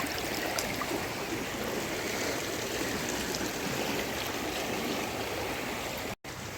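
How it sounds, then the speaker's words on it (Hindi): The Ganges at Haridwar runs high over submerged ghat steps with a steady, close rushing flow that continues without pause apart from a short dropout near the end. "पूरा डूब चुके हैं, और पानी का बहाव इतना ऊपर"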